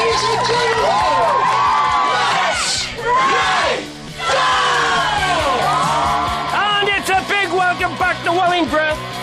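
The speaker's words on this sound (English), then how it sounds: "The crowd are going wild for one of the most successful darts chuckers of all time, Bobby Glitter George." An excited darts crowd yells, whoops and cheers loudly and close, with screams and shouts overlapping in waves, briefly dipping before surging again into choppy bursts of cheering.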